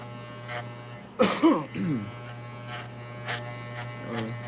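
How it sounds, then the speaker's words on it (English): Electric clippers buzz steadily while trimming an English Cocker Spaniel's coat, a constant low motor hum running throughout, with a brief louder burst of strained motor noise near the middle as the blades work through thicker hair. "So once you hear the, the clipper motor kind of go back to the normal sound, then you know you're good."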